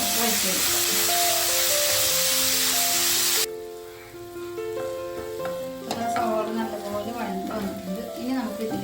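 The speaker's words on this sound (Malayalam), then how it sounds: "നല്ലപോലെ ചൂടായിട്ടുണ്ട് ഇതിലേക്ക് നമുക്ക് ഒരു നാല് സവോള ഇരുന്ന് ചേർക്കാം" Sliced onions hit hot oil for a mutton curry, giving a loud, steady sizzle that drops abruptly into quieter crackling and stirring. Music plays throughout the clip.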